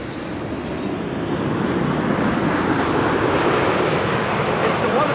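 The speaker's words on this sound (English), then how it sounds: "It's KLM flight 879. And it's a Dreamliner 7879." A KLM Boeing 787-9 Dreamliner airliner, flight 879, roars at Schiphol Airport with a loud, continuous broadband engine rush that holds steady throughout, while a voice speaks over it.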